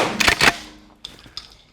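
A less-lethal beanbag round fires from a shotgun with a sharp, moderately loud report followed by two faint, quick clicks, heard alone with no talking.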